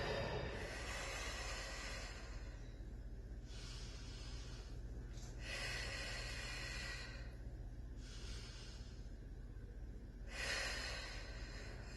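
Slow, deep breaths during a yoga plank come as quiet, airy inhales and exhales in a few long cycles of several seconds each, close and soft with no talking.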